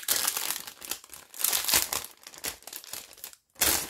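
Crinkly plastic packaging around a metal cutting die being opened by hand, crackling and rustling loudly in close, irregular bursts before a brief pause and a final crinkle.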